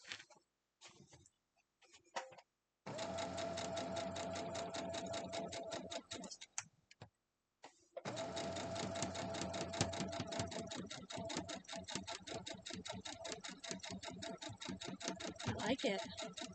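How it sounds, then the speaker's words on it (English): Sewing machine stitching in fast, steady bursts, running for a few seconds, pausing briefly, then running again for a longer stretch; close and fairly loud, with no talking over it. "let's go sew it up"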